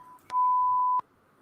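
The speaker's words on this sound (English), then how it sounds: "We didn't need the beep yet." A live show's beep sound effect plays as a single loud, pure tone lasting about two-thirds of a second, framed by faint clicks.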